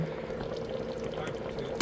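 Water and canned portobello cream of mushroom soup pour into a cooking pot as a steady, continuous splashing stream, moderately loud and close, with a brief louder splash right at the end.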